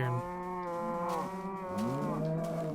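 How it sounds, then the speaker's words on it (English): Cows in the Minecraft video game moo loudly and repeatedly, long drawn-out calls overlapping one another in a close, noisy herd with no talking. "Oh, these cows are so loud and annoying."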